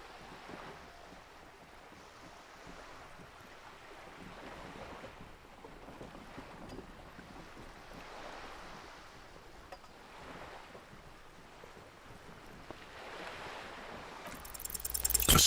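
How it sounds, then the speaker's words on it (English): Slow waves swaying a sloop in Disco Elysium, a soft continuous wash of water and wind around the boat, faint and steady, swelling a little toward the end. "The waves sway the sloop slowly."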